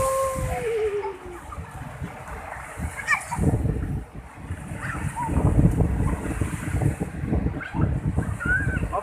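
Waves washing onto a beach in Bengkulu, broadband surf and splashing close by with wind buffeting the microphone, while children play and voices call out faintly in the background.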